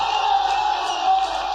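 Audience applause and cheering at a shayari mehfil, an Urdu-Hindi poetry gathering, forming a dense, steady wash of crowd noise that holds at a constant level throughout.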